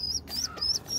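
Small pigeon chicks in a loft give thin, high cheeping calls, four short chirps in a row over a low background hum, fairly near and soft.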